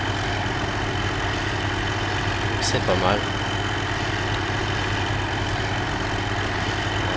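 An old tractor engine in a farming simulator idles with a steady low rumble, while someone speaks briefly over it.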